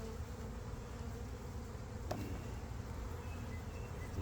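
A steady, dense buzz of honeybees in a hive hums throughout, many bees droning together close by, with one brief faint click partway through.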